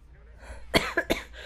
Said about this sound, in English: I'm sorry for coughing today